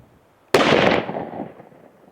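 A single shot from a Remington 700 wood-stock hunting rifle fired outdoors, one abrupt loud crack after a quiet lead-in, followed by a rolling echo that fades over about a second and a half.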